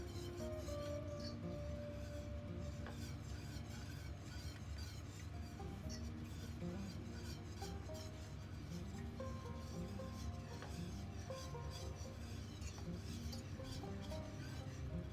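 Steady stirring of milk into béchamel sauce in a pan, a continuous soft scraping and swishing with faint utensil clinks, close and even throughout with no talk.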